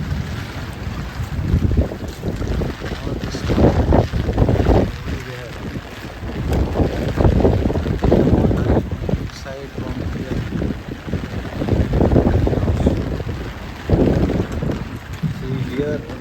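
Typhoon No. 13 batters Mobara with loud, gusty wind roaring and buffeting the microphone in repeated surges, while someone talks over the storm.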